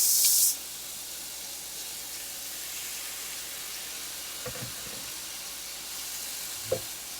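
Blanched fresh green beans sizzle faintly and steadily in a hot pan, a soft continuous hiss after a brief loud burst at the start, with a couple of light clinks near the end.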